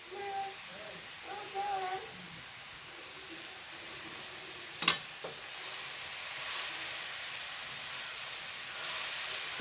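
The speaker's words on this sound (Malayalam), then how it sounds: "ഒന്ന് ഇളക്കി കൊടുക്കാം" Well-drained spinach (cheera) sizzles softly in a pan, a faint steady hiss rising toward the end, broken by one sharp clink of a stirring utensil, with a voice speaking early on.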